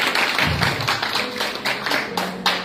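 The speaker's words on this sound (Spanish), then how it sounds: "Denle fuerte aplauso al Señor" A small group claps in a quick, uneven burst of applause at a church service, fairly close, lasting only a few seconds.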